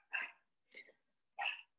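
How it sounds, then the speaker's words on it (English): A dog gives three short barks in the background, spaced about half a second apart, fairly faint and alone with no talking between them. "my dog is barking in the background."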